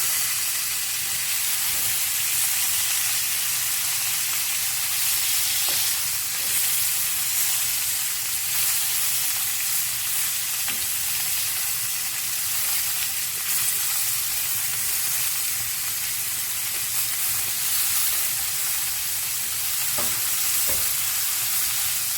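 Rosemary and garlic marinated lamb chops fry in a hot pan with the fatty edges pressed down, giving a steady, loud sizzle and hiss throughout, broken by a few faint utensil taps.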